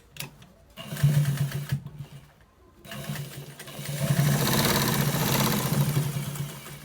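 A sewing machine stitches trouser fabric in close, whirring bursts: a short run, a pause, then a longer and louder stretch of steady stitching.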